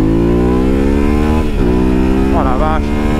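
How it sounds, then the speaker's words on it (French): Yamaha Ténéré 700 World Raid 2022 motorcycle pulls hard in second gear, its parallel-twin engine note rising steadily and loud up close, with a brief dip like a wind gust or shift before climbing on. "Allez, on va faire une petite accélération en deuxième."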